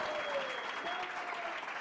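A studio audience at a live podcast taping applauds and cheers, a steady dense wash of clapping from a crowd filling the whole short moment.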